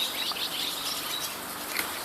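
A small bird perched on a tree branch outdoors gives faint, scattered high chirps over a steady airy background, with no voices.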